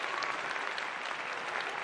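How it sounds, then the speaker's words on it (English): Brief, steady audience applause from a radio aftershow crowd, even and moderately distant, with no voices over it. "Come on, give her applause, you guys."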